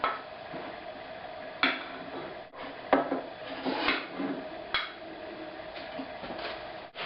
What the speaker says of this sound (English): let's go ahead and scoop it into the bowl